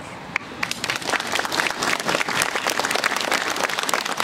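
Audience at a commemoration ceremony honouring victims of colonial slavery breaks into sustained applause, dense steady clapping from many hands that holds at an even level throughout, close and full.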